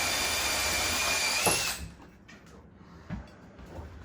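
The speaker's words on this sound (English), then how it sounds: "I'm drilling one to the other" A power drill bores holes through a kitchen cabinet door for handle installation, a loud steady whine that runs for under two seconds and then cuts off, followed by quieter workshop noise and a single brief knock.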